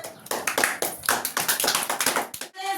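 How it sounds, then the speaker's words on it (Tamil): An audience at a Tamil debate event claps rhythmically in bursts, loud, close and brisk, for a few seconds before cutting off. "ஜோரா கைத்தட்டு"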